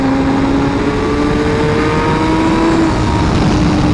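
Suzuki GSX-R1000R sport motorcycle accelerating on a street, the engine note rising in a steady, loud drone with wind rush, recorded up close from the rider's position, no voices.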